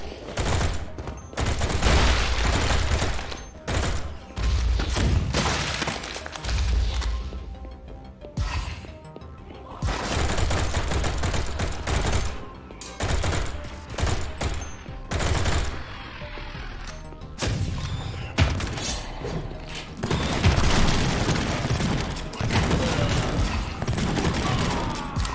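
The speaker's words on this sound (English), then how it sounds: "Burst fire" Burst fire from a gun in the video game Project Warlock 2: loud, dense rapid shots and impacts pound almost continuously for the whole stretch, with only a few brief gaps.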